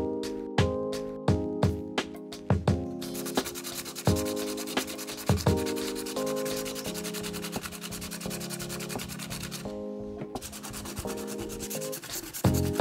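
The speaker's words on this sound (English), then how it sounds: "I then hand sanded them until they were nice and smooth" Hand sanding wenge and copper knife handles: dense continuous rubbing strokes with a few sharp knocks early on, close and steady throughout with no talk.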